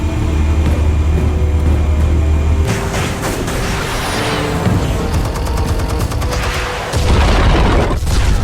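Explosives detonating in the Batman Telltale video game: a heavy, continuous rumbling blast with crackling debris and a dense rattle of rapid bursts, surging again into a deep low boom near the end.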